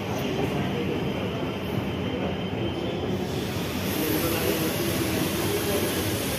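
A train at a large railway station makes a steady loud rumble of rolling wheels and carriages throughout, with a faint high squeal in the later part and no clear talking over it.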